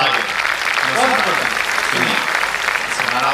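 Audience applause at an Ahmedabad kavi sammelan, a Hindi poetry gathering, rising as a broad wash of clapping while a voice speaks over it partway through.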